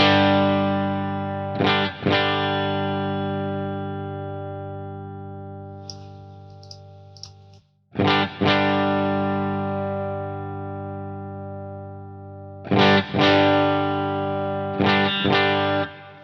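Clean electric guitar through an HX Stomp with the compressor off rings out in sustained chords with a slight gritty edge, struck a few times and left to decay, near and alone.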